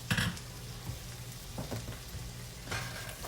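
Cut gold potatoes land in a pan with smoked sausage and start frying, a close sizzle with a couple of sharp bursts as pieces drop in and a quieter crackle between them, with no voices.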